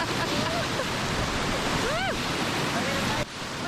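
Rushing class 2 rapids on the Upper Salt River roar around a raft in a dense, steady wash of water, with voices calling and whooping over it, then a sudden drop in level near the end.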